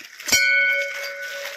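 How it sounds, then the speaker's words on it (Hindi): A single temple bell strike at Tungnath rings out close and clear, its bright metallic tone lingering and slowly fading over a second. "घंटी बजाते हैं,"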